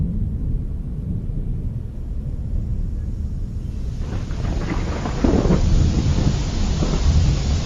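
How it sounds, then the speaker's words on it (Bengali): Heavy rain starting to pour outdoors during a paddy harvest, a broad rushing wash that thickens and grows louder partway through, with low rumbling underneath like distant thunder. "এই রে, জোরে বৃষ্টি শুরু হয়ে গেল যে"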